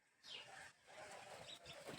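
Sparrows chirp and twitter in quick, overlapping bursts nearby, with soft background noise between calls.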